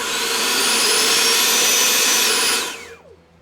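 An FMS Viper 70mm electric ducted fan RC jet spools at high throttle, a loud close whining roar held steady, then cut off with a falling whine into near silence.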